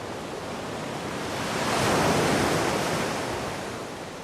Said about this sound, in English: we have the sound of the waves crashing on to the beach